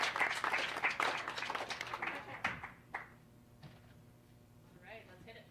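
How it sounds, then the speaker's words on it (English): Audience at a school symphonic band and wind ensemble concert claps in a dense round of applause that thins out and fades to a few scattered claps and room noise. "let's give them an extra round of applause for them as well"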